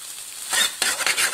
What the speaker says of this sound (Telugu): ఇప్పుడు ఎగ్ అనేది ఫ్రై అయిపోయింది కదా